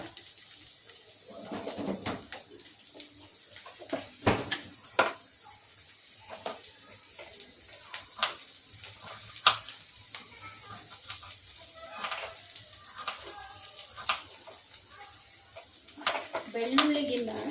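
Chopped ginger sizzles in hot oil in a pan while a spoon stirs and scrapes through it, a steady close frying hiss broken by irregular clatters, for a chicken fry dish with garlic.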